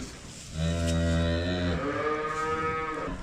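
A very small newborn calf on a farm gives a loud, close, drawn-out moo that breaks partway into a higher, wavering second cry.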